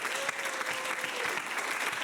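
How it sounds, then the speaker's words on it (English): Audience applause erupts at an improv comedy show, a dense, steady wash of many hands clapping close by for about two seconds, with a faint sustained tone running beneath early on. "Give everyone a round of applause."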